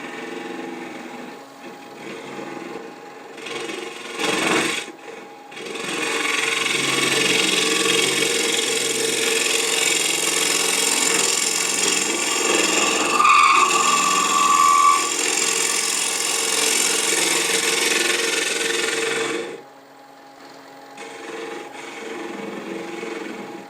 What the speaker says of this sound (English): using a negative rake scraper. It's not as aggressive, but I don't have to be as concerned about lifting the handle.